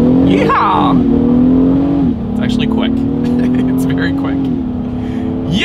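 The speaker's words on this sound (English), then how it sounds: "And let's do a quick little acceleration with it in sport driving mode." A 2023 Acura MDX, a three-row luxury SUV with a naturally aspirated engine, accelerates hard in sport mode, loud engine revs climbing through gear shifts, heard from inside the cabin with people talking over it.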